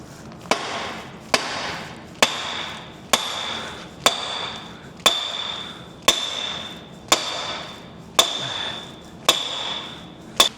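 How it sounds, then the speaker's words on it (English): A sledgehammer repeatedly strikes a steel pin topped with a welded nut, producing eleven sharp metallic clanks at a steady rhythm about one second apart, each with a short ringing decay, close and loud with no talk. "I can smack that to my heart's content with a sledgehammer"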